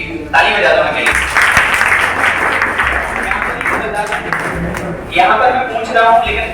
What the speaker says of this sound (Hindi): ताली बजा दो मेरे लिए।